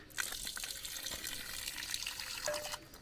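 Water runs steadily from a public faucet in a Spanish town, a close, continuous splashing gush with no talk over it.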